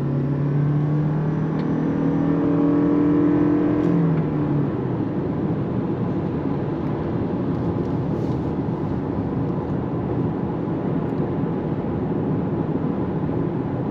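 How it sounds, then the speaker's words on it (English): Toyota Crown Limited hybrid cruising on the highway at about 65 mph, a steady interior hum of road and tire noise with a low drone, constant and moderately loud throughout, briefly a rising engine tone near the start. "Cruise along on the highway going 65."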